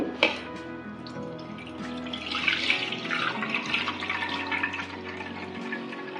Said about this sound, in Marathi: आपण तांदूळ पाण्यातून काढून घेऊ.